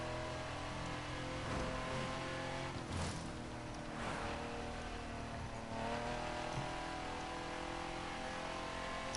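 A car in the video game Cr3w 2 cruises on a road with a constant engine drone and occasional whooshing swells, loud and steady throughout.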